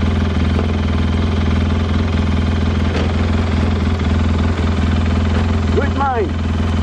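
A vehicle engine idles out in a rural cattle pasture, a loud steady low drone with constant hum that runs throughout, joined near the end by a brief faint animal call.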